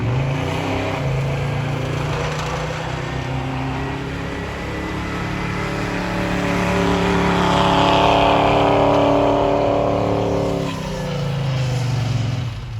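A four-wheel drive truck doing a donut on winter ground, its engine droning steadily and swelling louder midway as it revs and circles, then easing off near the end, with no talking.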